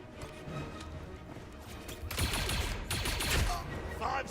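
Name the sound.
blaster gunfire in the video game Star Wars Zero Company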